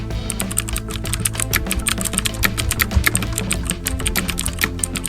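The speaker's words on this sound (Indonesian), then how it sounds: "Cobalah aku ketik ya. Aku cari dekat Google, ride sharing" Rapid keyboard typing as a search is entered into Google, dense and steady clicking of keys close by for several seconds with no voices.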